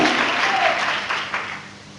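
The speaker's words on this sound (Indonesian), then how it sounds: "Kalau mau tepuk tangan, jangan tepuk tangan dan ragu-ragu" A short burst of church congregation applause during a sermon, fairly full at first and then thinning out and fading over a couple of seconds.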